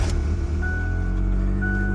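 A Jeep Wrangler with a manual transmission sits at an auto auction lot, its engine running in a steady, loud, low rumble with a faint high tone, and nobody talking.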